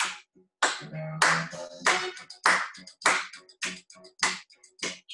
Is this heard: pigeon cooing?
no